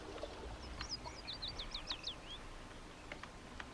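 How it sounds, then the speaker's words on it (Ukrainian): Birds chirp in a quick run of short, rising whistled notes on the Counter-Strike 2 map Fachwerk, a video game, with a few softer scattered tweets afterward over a quiet ambient hum. "І пташки це."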